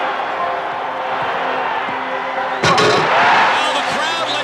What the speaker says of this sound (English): Now the crowd lets you know what they think of it.